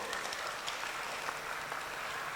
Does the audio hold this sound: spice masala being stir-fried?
no